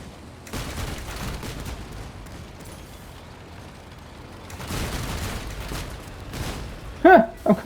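Gunfire from vehicle-mounted guns in the video game Crossout, muffled bursts of rattling shots and explosions at moderate level, with a voice briefly heard near the end.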